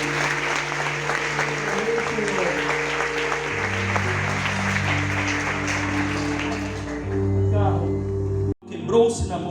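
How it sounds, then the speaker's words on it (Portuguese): A church congregation applauds in a steady crowd wash while sustained keyboard chords play beneath it, ending with an abrupt cut. "Você pode dar um aplauso a Jesus?"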